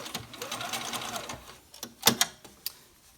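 A sewing machine stitches a fabric face mask with elastic straps, running in short bursts of rapid mechanical whirring and clicking, with a few sharper clacks near the end as it backstitches.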